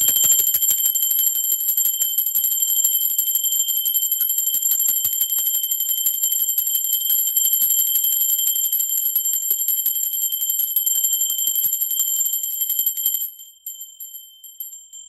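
A bell rings in a spiritual tarot-style reading, giving a steady, bright, high ringing tone that holds evenly for about thirteen seconds before cutting off, with no voices over it.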